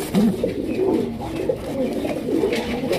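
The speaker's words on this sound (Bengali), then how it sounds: "এক জোড়া রেসার কবুতর, ব্ল্যাক রেসার ডিম বাচ্চা করা রানিং পেয়ার" A pair of jet-black racer pigeons coo in soft, repeated throaty phrases close by, over faint background noise.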